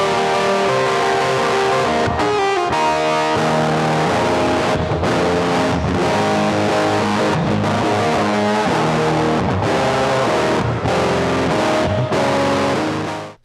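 Lead electric guitar with extra distortion added, played direct without an amp, gives a loud, saturated line of sustained notes and quick runs with a few brief gaps before it fades at the end.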